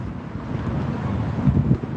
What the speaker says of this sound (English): A lot of wind